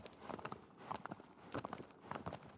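Horse hooves in Shadow of the Colossus clop along at a walk, a soft steady rhythm of muffled hoofbeats on the ground, moderately close.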